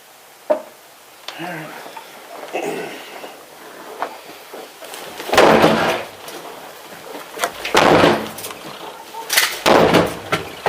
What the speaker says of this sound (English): We're gonna kick your door open.